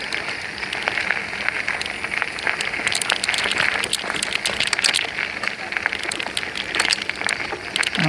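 Rain patters steadily during a ride on a trail, a dense crackling hiss of drops on surfaces, close and constant, with a voice faintly mixed in.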